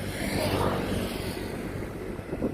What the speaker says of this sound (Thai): เดี๋ยวตุ้มให้ดูสองขบวนเลยได้ยินเสียงเรือวิ่งมานะคะ